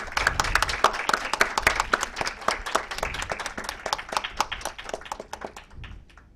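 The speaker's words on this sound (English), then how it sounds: "A big round of applause, please." A crowd at a women's leadership summit claps in steady applause, sharp individual claps audible, gradually thinning and fading out toward the end.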